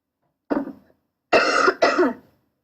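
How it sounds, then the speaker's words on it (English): A coughing fit: one short cough, a pause, then two loud, harsh, throaty coughs in quick succession, close by with no talking. "let's have like a coughing fit then"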